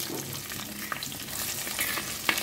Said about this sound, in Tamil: இப்போ பச்சை மிளகாய் கருவேப்பிலை வெங்காயம் போட்டுக்கலாம்.